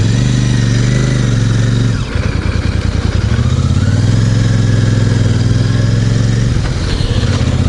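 A Royal Enfield Super Meteor 650 in Celestial Red runs loud and close up with a throbbing engine note. The revs shift audibly early on and again near the end.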